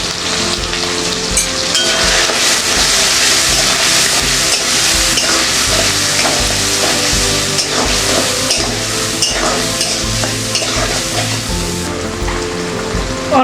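Chili, ginger and garlic paste with turmeric and salt fries loudly in a pan, a close, dense sizzle overlaid with repeated scraping and stirring strokes of a spatula.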